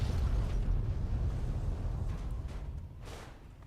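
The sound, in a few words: nuclear explosion in video game Fallout 3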